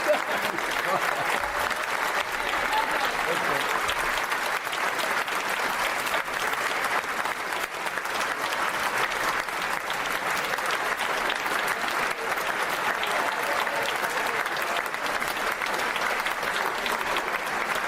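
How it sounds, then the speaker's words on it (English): Members fill the House of Commons chamber with sustained applause and cheering that holds steady and loud, with voices audible within the crowd. "I'm sorry we're still clapping."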